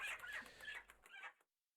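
Chicken clucking from the Legend of Mir 2 video game, a few short, bright bursts of clucks in quick succession, quiet and close, ending abruptly in silence.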